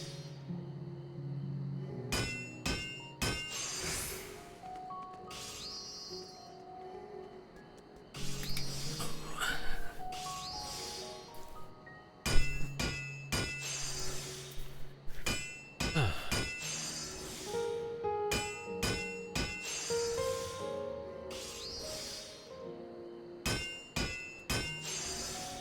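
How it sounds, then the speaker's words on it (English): Hammer strikes from crafting in Final Fantasy XIV, a video game, ringing out in irregular bursts of sharp metallic clanks with bright chiming tones over soft background music, steady and close for the whole stretch. "Sound of hammer clanking is very soothing."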